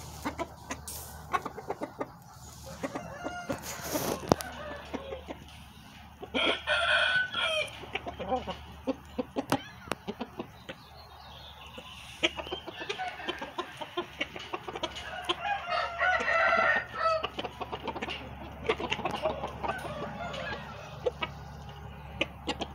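Farmyard chickens cluck in bursts while a rooster crows now and then, close and fairly loud over a low steady hum, with the birds carrying on for the whole stretch.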